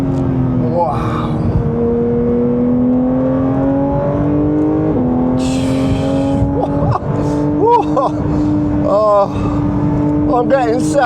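A Guards red Porsche 911 GT3 accelerates hard from the inside, its loud engine note climbing through rising revs with gear changes, while a voice exclaims excitedly over it.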